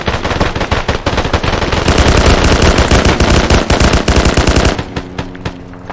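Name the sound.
gunfire in the video game Arma 3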